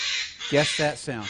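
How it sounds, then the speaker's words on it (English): A crow gives three loud, harsh caws in quick succession, close and clear, just after a brief spoken phrase. "Guess that sound. It's a crow"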